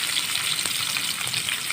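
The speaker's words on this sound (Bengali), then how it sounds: "এবার এর মধ্যে কাঁচা লঙ্কা আর পেঁয়াজ কুচি দিয়ে দিচ্ছি।" Green chilies and chopped onion spit and hiss in hot oil, a steady close sizzle with a faint clink of a utensil partway through, no voices.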